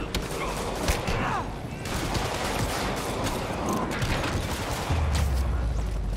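Mobsters in Spider-Man (2018) fire guns in dense, overlapping bursts of rapid shots and cracks, loud and close and continuing throughout, mixed with clanking action noise and a low rumble near the end.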